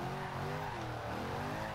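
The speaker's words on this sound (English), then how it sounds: "To be able to get the car to go sideways" Chevrolet SS sliding sideways in the racing game Forza Horizon 2, a continuous loud screech of drifting tires over a steady engine roar, heard briefly and alone.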